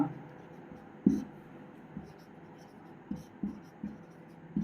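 Chalk or marker writing on a board in an English class, producing a series of short scratchy strokes at irregular intervals, fairly close, over a quiet background.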